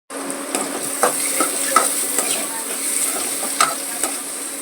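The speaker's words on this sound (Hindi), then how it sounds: "गाइस अब मैं करूँगी मशरूम फ्राई।" Mushrooms fry in a pan with a constant close sizzle, broken by repeated scraping stirs of a utensil against the pan, and no voices.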